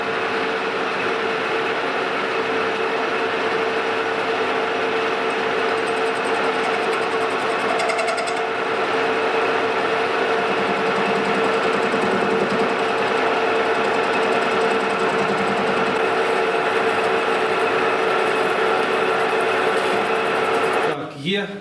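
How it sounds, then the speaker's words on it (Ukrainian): Metal shaft being rough-turned on a lathe in a workshop, a steady continuous machining drone with a constant whine, close and loud throughout before stopping abruptly near the end. "Обдираємо і проточуємо."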